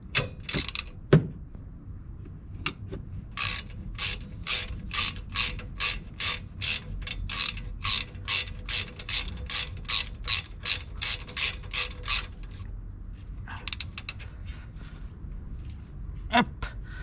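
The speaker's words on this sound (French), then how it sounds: "Donc la clé à cliquer est là." Ratchet wrench clicking in a long, steady run of rapid strokes during a brake pad job on a Renault Megane GT220 or Clio 4 RS fitted with Ferodo Racing DS2500 pads, close and loud, with a few clanks before and after.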